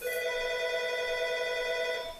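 A sustained electronic telephone ring sounds steadily for a couple of seconds, a bright multi-tone buzz close by.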